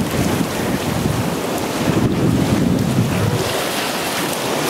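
A sailboat runs downwind in about 15 knots with all sail up, wing and wing near the Chesapeake entrance; steady rushing wind and wave wash, loud and continuous, with heavy wind buffeting on the microphone.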